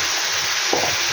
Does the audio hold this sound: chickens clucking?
no